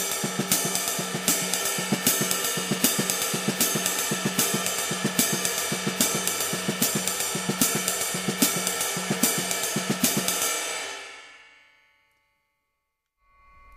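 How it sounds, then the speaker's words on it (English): A drum kit plays a fast single paradiddle-diddle with soft ghost notes on the snare: a dense, steady stream of close strokes over a cymbal wash. It stops near the end and rings out into silence. "you can get some nice ghosting notes happening on the snare drum if you start off with a right"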